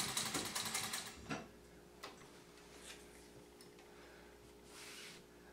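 A sewing machine stitches the binding onto a butterfly quilt, giving a brief burst of fast mechanical whirring followed by quieter ticks and faint clicks of the mechanism.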